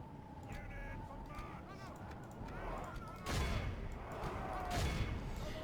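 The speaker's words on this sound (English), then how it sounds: "So crossbows fire off their last few rounds." Crossbow volleys in a Total War battle from the Divide & Conquer mod, Rhûn faction: sharp, crackling bursts of massed fire, two heavier salvos among scattered shots over a noisy battlefield din with faint honking calls.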